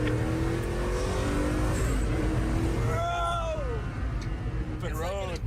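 Fastest American-made carbon car accelerating hard on an open road: a steady loud engine roar with rising, whining rev sweeps repeating toward the end, close and constant, with voices faintly mixed in.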